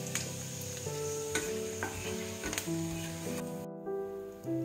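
Whole cumin seeds and dried red chilies sizzle in hot oil for a dal tempering, a soft steady crackle with a few sharper pops and clicks of utensils, over a tonal background with a brief break near the end.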